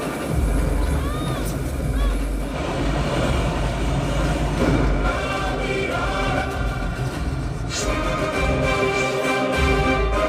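A train rumbling steadily along the tracks, loud and continuous, with metallic squeals and a faint murmur of voices in the background.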